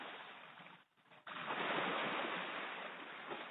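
Ocean surf washes onto a beach in the morning, a broad steady roar that drops away for a moment and then surges back loud and close, with no voices.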